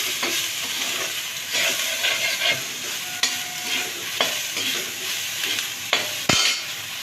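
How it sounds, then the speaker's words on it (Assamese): Salt, turmeric powder and chili powder fry in a pan, giving a steady close sizzle broken by repeated scraping stirs and a sharp clatter near the end, with no voices. "অকণমান ভালদৰে ভাজি লওঁ।"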